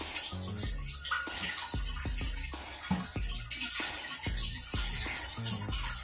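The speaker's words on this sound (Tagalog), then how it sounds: "Bagyan ko muna ng tubig." Water poured steadily into a cooking pot for fish tinola soup, a continuous splashing rush with small clunks throughout, fairly close and heard alone without talk.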